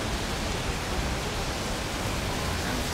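Waterfalls pour beside a mountain road in Norway, near Loen, Trollstigen and Olden, making a loud, unbroken rushing roar with no pauses and no voices.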